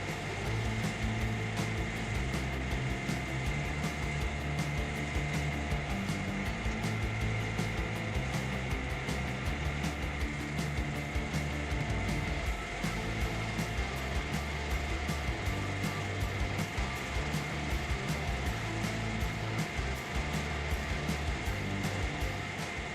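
John Deere 853M and 903M tracked feller bunchers working tree-felling on tough ground, a continuous loud mechanical drone with a steady engine and hydraulic whine and fast repetitive rattling throughout, no voices.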